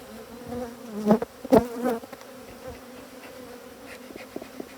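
Agitated honeybees buzz around an opened hive, a steady close drone with a few louder swells as bees fly past the microphone, no talking.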